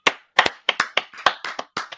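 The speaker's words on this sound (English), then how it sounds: "clap it up for me" A small group clapping in a loose, uneven rhythm, about a dozen sharp distinct claps in quick succession, close and clear with no talk over it.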